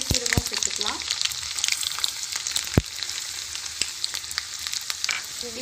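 Garlic, mustard seeds, fenugreek and cumin crackle and sizzle in hot oil, a loud steady fry dotted with sharp pops and spatters, and a voice talks briefly at the start.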